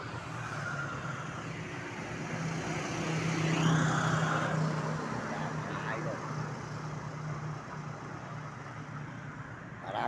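Vehicles pass on a highway in San Fernando in a steady roadway rumble, with one car swelling louder midway and then fading, heard under a man's continuous speech.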